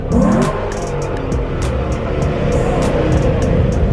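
Car sliding at a night car meet, a loud steady engine roar with gritty tire noise close by and some crowd chatter mixed in.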